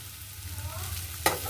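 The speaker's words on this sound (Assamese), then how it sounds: "এয়া মই ঢাকনিখন আঁতৰাই দিওঁ চাওক, আৰু এতিয়া লৰাই দিম।" Onions frying in an uncovered pan are stirred, giving a steady soft sizzle over a low hum, then a sharp scrape or clink of the spoon near the end.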